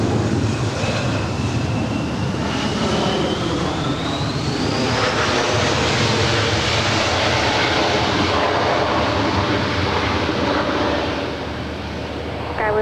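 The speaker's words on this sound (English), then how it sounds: "This is Skywest 3433 coming in from San Francisco. It's an Embraer E175." SkyWest Embraer E175 regional jet at LAX, a loud sustained engine roar with a rising whine as it passes close by, fading slightly at the end.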